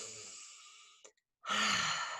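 A long, soft breath pushed out through the mouth fades away, then a short catch, a moment of silence, and a fuller breath that is close and clear.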